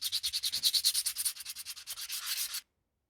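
Quick, even strokes of 200 grit sandpaper rubbing across a Lawgiver prop pistol, close and brisk, ending in a longer drawn-out pass before stopping abruptly.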